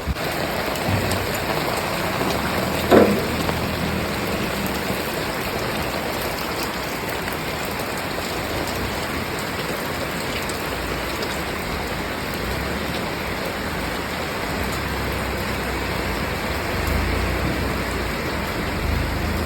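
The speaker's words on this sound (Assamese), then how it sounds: "ইমান ডাঙৰকৈ বৰষুণ দি আছে" Heavy rain pours steadily throughout, a dense continuous hiss of drops on surfaces, with a brief sharper knock near the start.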